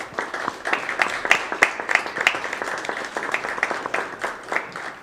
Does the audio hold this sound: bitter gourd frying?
no